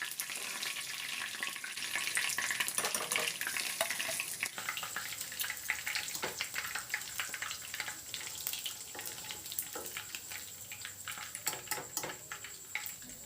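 Food fries in hot oil in a pan while being stirred now and then, a soft, steady sizzle crackling with occasional scraping and clinking strokes, faint and continuous with no voices.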